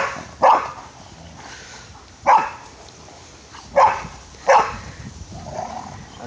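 Two dogs playing together and barking, with four loud, sharp barks spaced about every one to two seconds over quieter yips and whimpering in between.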